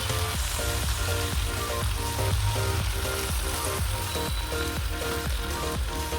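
Washed gongura leaves fry in hot oil for a Telangana-style gongura pachadi, giving a loud, steady sizzle with regular crackling bursts that carry on throughout, no voices present.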